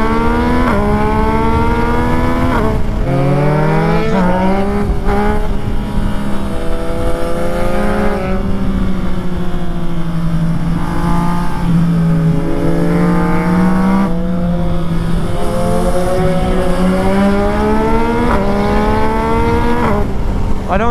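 A Yamaha MT-09 SP with a reprogrammed ECU rides alongside a Triumph 765 RS and a Daytona 675, three-cylinder engines droning loud and close as the revs rise and fall steadily under strong wind rush.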